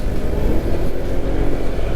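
A Honda ADV 160 scooter engine held around 4000 rpm while climbing a mountain incline with a rider aboard, giving a steady, continuous drone close to the microphone with no talk over it.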